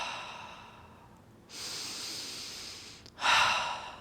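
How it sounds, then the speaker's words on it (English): A person takes loud, deliberate breaths close to the microphone, a slow inhale followed by a forceful, rushing exhale, with no talking. "maybe I start breathing, like I do loud breaths like this"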